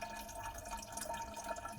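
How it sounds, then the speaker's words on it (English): Water flows steadily through a ceramic filter in a home water filtration setup, making a faint continuous trickling and dripping with no speech. "all that dirt will be captured in that ceramic filter, and the flow is quite good through that"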